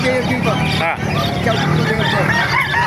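Chickens cluck and squawk close by amid a busy crowd at the Calumpit tyangge, an open-air market selling animals, with people talking in Filipino over the birds throughout.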